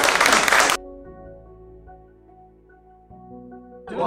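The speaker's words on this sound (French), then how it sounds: "on peut l'applaudir là." A short burst of audience applause in a French studio broadcast breaks off quickly and gives way to soft tonal music, then swells back in at the very end.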